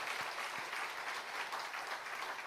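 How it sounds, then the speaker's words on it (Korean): A church congregation at a Sunday evening service applauds together. The clapping is brisk, even and continuous, filling the whole room for a couple of seconds. "우리 박수로 응원하겠습니다"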